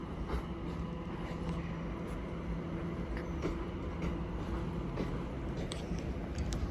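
Class 710 train 710-375 arrives at Watford Junction with a steady, moderately loud rumble, faint high squeals and clicks from the wheels running through.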